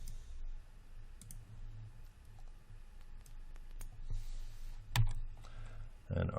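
Computer keyboard hotkeys are tapped while modeling in Maya 2017, giving a few sparse, light clicks over a quiet room hum, with soft voice sounds in the background.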